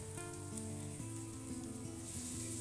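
Garlic frying in a pan gives a steady, soft sizzle throughout, with tuneful background music playing over it.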